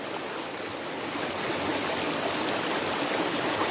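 A river rushes steadily with a broad, continuous hiss of flowing water, loud and close, building slightly over a few seconds with no voices.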